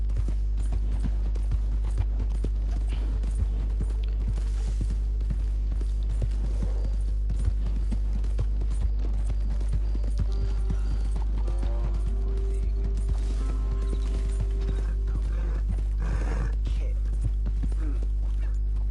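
Horse hooves clip-clop steadily in the video game Red Dead Redemption 2, a continuous rhythmic clatter with in-game ambience and occasional talking over it.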